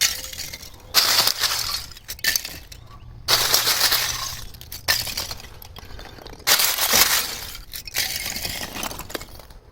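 Packing peanuts are handled and churned in bursts, giving crisp, glassy clinking and crackling rustles that swell and fade about three times at close range, with no voices.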